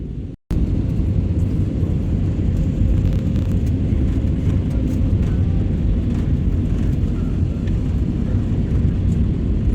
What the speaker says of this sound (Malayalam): ഇതാ മലേഷ്യയിൽ ഞങ്ങൾ ലാൻഡ് ചെയ്തു